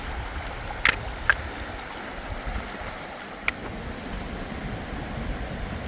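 The west branch of the Piscataquis River flows past a hiking trail with a steady, moderate rushing wash, broken by a few brief sharp clicks nearby.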